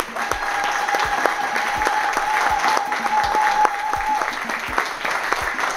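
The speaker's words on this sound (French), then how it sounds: "Merci, mesdames et messieurs, d'applaudir dignement notre valeureux Privat Ngomo." At a ceremony marking ten years of Génération Ekang, the audience applauds an honoree in steady crowd clapping, with rhythmic low thumps and a sustained tone running beneath.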